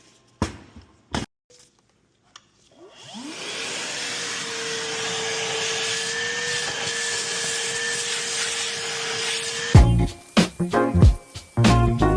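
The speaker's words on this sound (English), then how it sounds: "we are going to go to the truck and vacuum out the intake runner" A shop vacuum cleans out the intake runner of a 6.7 Cummins truck engine. A few sharp clanks come first, then a steady whining drone runs for about seven seconds before more knocks and handling clatter.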